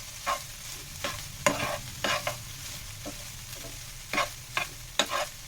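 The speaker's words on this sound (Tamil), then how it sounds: "ரைஸை போட்டு நல்லா கிளறணும்" Soya meal maker rice with masala is stirred in a pan, with intermittent scraping strokes of the spoon over a soft, steady sizzle, close by and fairly quiet.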